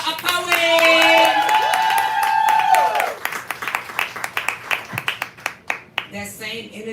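An audience at a live poetry performance claps for a poet after a voice finishes speaking. The claps come scattered and distinct, fairly close, rather than as a dense roar.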